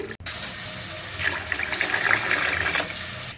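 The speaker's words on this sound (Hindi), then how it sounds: "3 गिलास में इसमें पानी ऐड कर रही हूँ।" Water is poured from a glass into a pot of browned chicken for Kabuli pulao, a steady gushing splash heard close up that swells and keeps running throughout.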